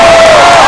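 A live rock concert crowd in Las Vegas roars and cheers loudly and continuously, a dense wall of shouting and whooping voices with no pause.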